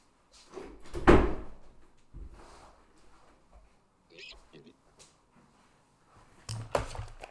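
An indoor door is pushed shut with a solid close thud early on. A second knock follows near the end, with quiet talk and small room noises in between.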